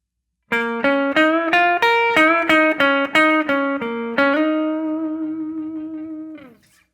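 Electric guitar plays a slow blues lick in the minor pentatonic: a quick run of about a dozen picked notes, then one long sustained bend that rings and slowly decays. It is close and clear, with no voices.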